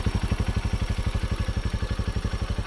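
A motorcycle engine idles steadily at close range, its rapid, even low-pitched pulsing thrumming on without a break or any talk.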